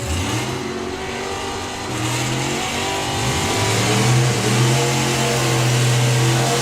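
A drag racing car launches hard off the start line with a brief wheelie, its engine revving loud and steady with rising pitch and no voices over it.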